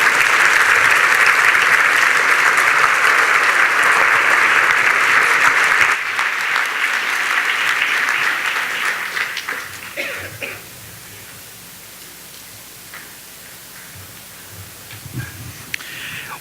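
Sustained audience applause closing an opening keynote at a youth training event, a dense, loud wash of many hands clapping for several seconds, then thinning out and fading to scattered claps and room noise.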